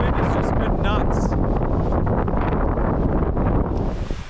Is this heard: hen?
no